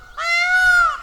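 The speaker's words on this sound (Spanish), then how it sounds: "Está enfadado el pavo." An angry turkey in a vegetable garden lets out a single loud, drawn-out honking call lasting close to a second, near and clear against quiet surroundings.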